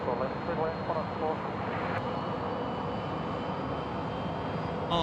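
Qantas passenger jet at Sydney Airport, a steady broadband roar of engines carrying across the airfield, with people talking over it.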